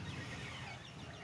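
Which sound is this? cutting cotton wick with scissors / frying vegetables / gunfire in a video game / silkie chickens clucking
silkie chickens clucking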